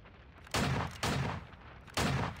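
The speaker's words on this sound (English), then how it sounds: "I'll just shoot all three." Three sharp gunshots fire at even intervals, each a hard punchy crack with a short decaying tail, in the video game Vainglory.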